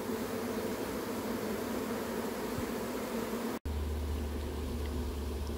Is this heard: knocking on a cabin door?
no